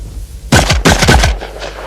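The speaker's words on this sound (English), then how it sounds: "so let's speed shoot this Benelli and see just how fast it really is." A Benelli shotgun fires at clay targets in rapid succession, several loud, close blasts packed tightly into under a second, followed by a fading outdoor echo.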